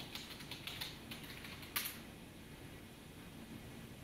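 Quiet typing on a computer keyboard, a run of soft, uneven key clicks with one sharper tap near the middle, then only faint background hum.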